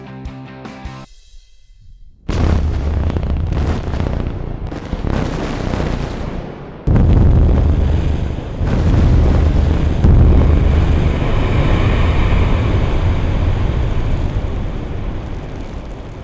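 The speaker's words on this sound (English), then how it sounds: "So now we've detonated an explosion, shot as we call it." A quarry blast detonates in dolomite aggregate as a deep, rumbling boom. A second heavy surge follows, then a sustained roaring rumble and wind-like noise continue at a distance.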